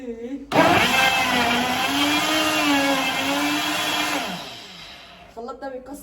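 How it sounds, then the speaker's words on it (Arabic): Kitchen blender whirring at high speed as it mixes water and sugar into juice, a loud steady motor whine that starts abruptly, holds for about four seconds, then winds down, with people talking faintly around it. "ايوه الخلاط اهو"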